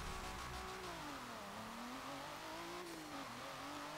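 A 2018 Kia Stinger GT's stock engine in Forza Motorsport 7 drones steadily, its pitch rising and dipping as it revs, loud and continuous with no voices.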